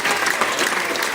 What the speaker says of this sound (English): Can I get one more big round of applause for both our couples,